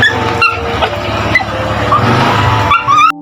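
A pet dog greets its owner arriving home, giving excited barks and yips over a busy background of traffic-like rumble, with a brief whimpering whine near the end.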